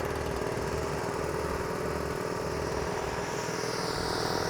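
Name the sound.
Trailblazer 12 air compressor engine running after start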